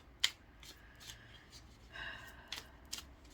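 Tarot cards shuffled by hand, giving faint, papery riffles and flicks in a few brief bursts against a quiet room, with no talking.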